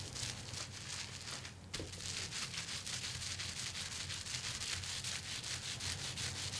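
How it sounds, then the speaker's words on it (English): Hands rubbing a soapy, wet felted wool bowl, producing a continuous close, hissy scrubbing and swishing with a rhythmic back-and-forth texture and one brief dip partway through. "it's like rubbing all around the outside"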